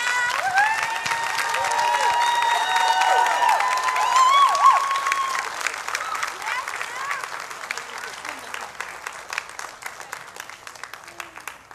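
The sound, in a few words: audience applauding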